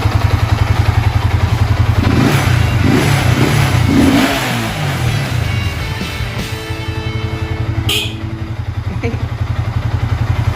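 A Yamaha Vixion motorcycle engine bored up to 200cc, with a stock exhaust, idles with a steady low chug, revs up and settles back, the exhaust note fairly loud and close.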